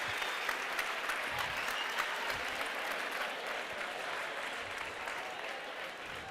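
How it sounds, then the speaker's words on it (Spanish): An audience claps steadily for Manuela Carmena, the dense applause holding at an even level throughout with no voices rising above it. "Aplausos, aplausos, aplausos a Manuela"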